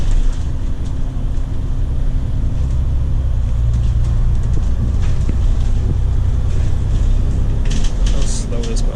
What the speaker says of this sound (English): Wow, this T7 bus is so slow.